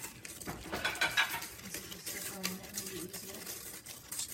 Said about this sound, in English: Then we're just gonna whisk it together so it all practically looks like it's melted